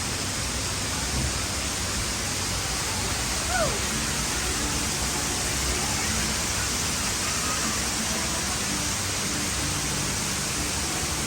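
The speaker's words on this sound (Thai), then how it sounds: "ตอนนี้ก็เป็นจุดที่แบบใกล้น้ำตกค่ะทุกคน ด้านหลังนั้นก็จะเป็นน้ำตกนะ" Waterfall beside a cafe pours in a constant dense hiss and rush of falling water, loud and unbroken, with faint bits of background activity beneath it.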